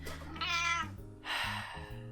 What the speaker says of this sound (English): My cat is really mad. And she thinks I'm talking to her.